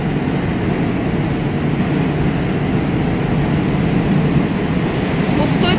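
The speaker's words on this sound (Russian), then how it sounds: "Пустой поезд, почти пустой поезд" A nearly empty metro train rides along, a continuous loud rumble with clattering undertones that holds steady without a break for about six seconds.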